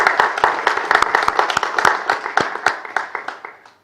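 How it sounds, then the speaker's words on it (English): A conference audience applauds after a talk, a dense, steady patter of many hands clapping for a few seconds that gradually fades out. "another round of applause."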